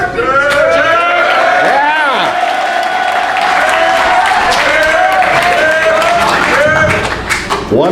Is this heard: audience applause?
yes